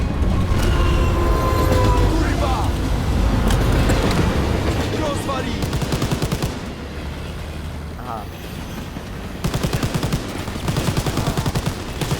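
A train rumbles and clatters along in the World War II shooter Call of Duty: WWII, with heavy rolling noise mixed with bursts of rapid machine-gun fire and voices talking over the action.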